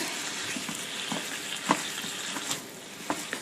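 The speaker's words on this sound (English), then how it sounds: "So the first step is to brown the ground beef." Ground beef browning in a frying pan, a steady close sizzle with occasional scrapes and taps from a flat-edged wooden spatula stirring the meat.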